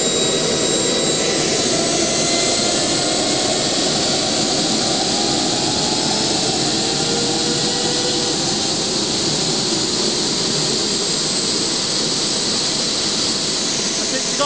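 A Behotec J66 micro jet turbine runs at maximum throttle, producing a loud, steady, high-pitched roar and whine that holds constant for the whole stretch at close range.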